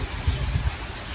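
Heavy rain falls in a dense, steady hiss with a few low thumps, a short, close burst of downpour and no talking.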